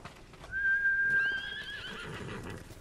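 A horse whinnies loudly after being called in the Ghost of Tsushima video game, a single long neigh near the listener that fades out with faint hoof sounds.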